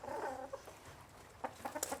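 Chickens at a country home in Rutland, England, where guinea fowl also live, cluck in short scattered bursts. The sounds are faint and somewhat distant.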